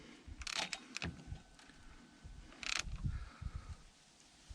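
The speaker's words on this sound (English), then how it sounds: "this is a big 1/2 inch ratchet I'm using" A big 1/2 inch ratchet tightens the terminal nut on a car alternator, giving short bursts of mechanical clicking and ratcheting in two clusters, fairly close and quiet, with faint knocks between them.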